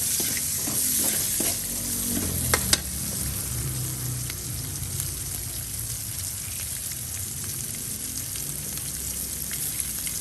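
Onions stir-frying with tofu in a hot pan give a steady close sizzle and crackle, with a few sharp scrapes and clinks of stirring early on and continuous frying noise throughout.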